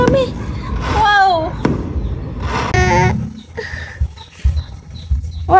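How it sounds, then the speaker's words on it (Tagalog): Fireworks burst outdoors during a street religious procession, sounding as repeated booms and crackles under excited voices and someone talking nearby. "Wait! Fireworks!"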